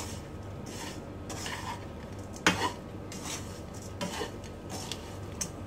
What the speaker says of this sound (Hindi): नमक डालकर भी इसको टॉस कर देंगे